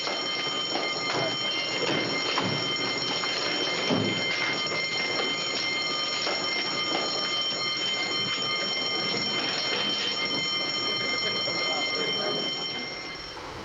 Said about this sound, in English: Don't you hear that alarm bell?